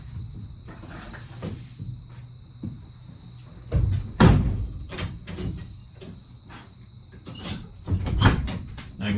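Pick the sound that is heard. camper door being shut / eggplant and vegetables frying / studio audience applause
camper door being shut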